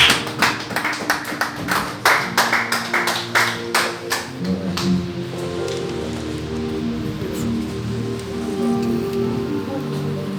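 A congregation applauds during a French-language church service with brisk, rhythmic clapping that fills the room for about five seconds. The clapping then thins and fades into a softer, toneful background.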